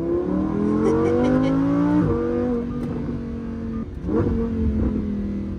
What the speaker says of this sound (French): c'est pour ça que je vais vous faire quelques accélérations